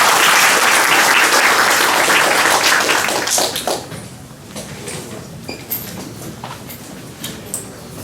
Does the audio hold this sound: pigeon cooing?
no